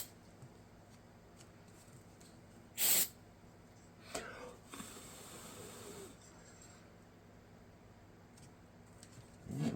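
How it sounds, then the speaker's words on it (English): Glue activator is sprayed onto laser-cut pieces in a few short, hissing bursts, the first sharp and loud, later ones softer and longer, separated by quiet workshop handling noise. "hit it with some activator, line it up, hit it with some activator"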